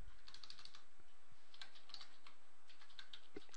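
Typing a search query on a computer keyboard, a rapid run of light, close key clicks at an irregular pace, quiet and heard alone.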